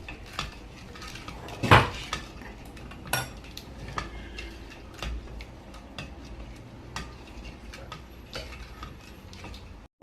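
A spoon scrapes and clinks against a pot while grape pudding thickened with corn flour is stirred, giving repeated close metallic taps and scrapes with one louder knock near the start.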